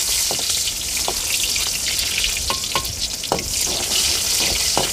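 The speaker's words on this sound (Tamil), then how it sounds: "வெங்காயம் போட்டாச்சு, இப்போ கடுகு போடுறோம்." Onion and mustard seeds fry in hot oil in a pan, giving a loud, continuous close sizzle with scattered pops and crackles from the seeds throughout.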